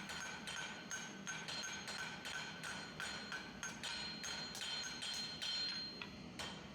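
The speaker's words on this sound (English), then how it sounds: "Now we'll use lighter hammer blows while turning the piece back and forth to round it up." Light hammer blows strike a steel S-hook being forged and rounded, producing a steady series of sharp, ringing metallic taps at a quick, even rhythm, moderately distant and fairly quiet, with no talk.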